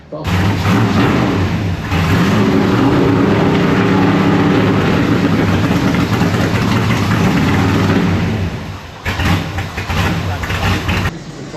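A loud engine runs steadily with a rough, droning rumble, dipping briefly near the end before picking back up.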